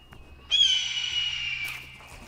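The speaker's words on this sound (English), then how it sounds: "Hear the eagle in the background." An eagle lets out a single long, shrill, high-pitched cry that holds steady for over a second before trailing off, heard alone in a quiet outdoor setting.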